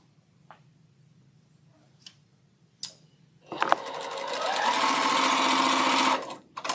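A sewing machine stitches quilt cornerstones in raspberry and peach fabric: a few soft clicks and taps first, then a close, steady whirring run of about two and a half seconds that stops abruptly.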